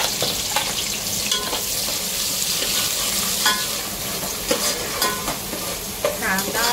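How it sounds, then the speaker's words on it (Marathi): Chopped onion dropped into hot oil for mushroom pulao, crackling and sizzling steadily and loudly throughout with scattered clicks of stirring, no voices over it. "तेल छान गरम झालेलं आहे, त्याच्यामुळे फास्ट आपलं सगळं फ्राय होणार आहे. लगेच कांदा पण टाकते."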